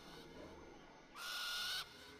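A single owl hoot from Far Cry Primal, a brief sustained call rising out of quiet ambient game background.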